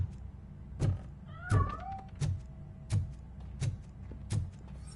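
A cat in RoboCop: Rogue City gives one short meow amid a series of regular heavy thumping footsteps, clear and fairly close.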